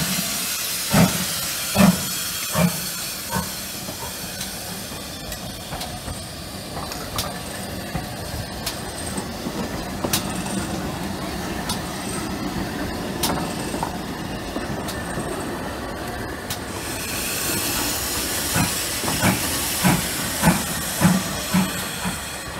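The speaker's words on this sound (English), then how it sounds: "Remarkable steam locomotive." Steam locomotive Hagley Hall on a heritage railway at Kidderminster Town during a steam gala: a continuous steam hiss and rolling train noise with sharp clanks and bursts of exhaust, loudest at the start and the end.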